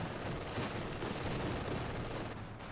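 Machine gun and battle fire in Company of Heroes 2 roar as a dense, continuous wall of rapid shots and blasts, loud and unbroken throughout.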